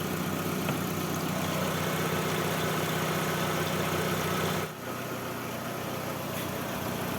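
A car engine idles in a steady, even drone at close range during a radiator flush, with a brief dip partway through and no talk.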